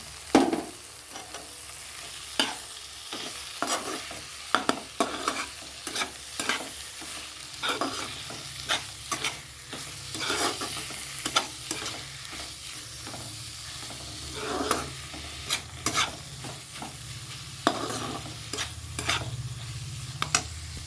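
Chicken coated with a little tamarind is stirred in a hot pan, spatula scrapes and clacks landing in an irregular rhythm over a steady close sizzle, with no one speaking.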